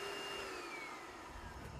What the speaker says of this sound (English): It's only taken me 5 minutes to get up here with this normal vacuum cleaner.